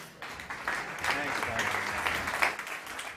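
An audience at a startup competition claps to welcome a presenter onto the stage, a short burst of applause that swells and holds briefly, with a voice speaking over it.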